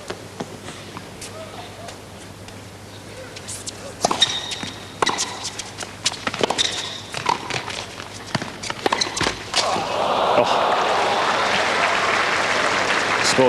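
A tennis crowd applauds a well-struck serve and forehand, with scattered claps growing into sustained applause that swells and holds near the end, while faint talk sits underneath.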